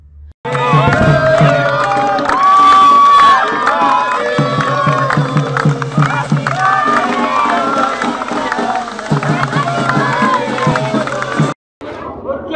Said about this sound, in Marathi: केक कापला तेव्हा उपस्थितांनी एकच जल्लोष केला